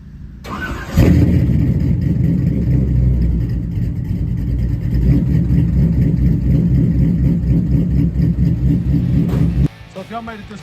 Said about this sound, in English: we can do a quick cold start